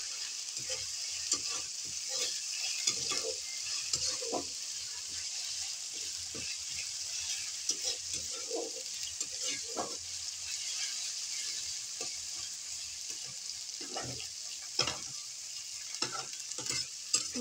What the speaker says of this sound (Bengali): এটা একটু ফ্রাই হতে থাকে, একটু পেঁয়াজ তো